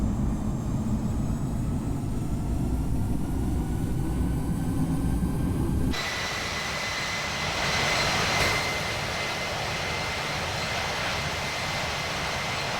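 A British Airways Speedbird airliner roars down runway 27 right at London Heathrow, a loud, broad engine rumble that holds steady, then shifts abruptly to a higher, hissing jet whine with tonal whistles as the aircraft accelerates away.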